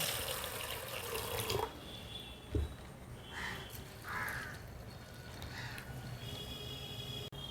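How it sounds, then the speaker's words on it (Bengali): Large sago pearls are washed with water in a kitchen, with running water and sloshing liquid at a low level and a crow cawing faintly in the background. "এবার সাবুটা দু তিনবার ভালো করে জল দিয়ে ধুয়ে নেব"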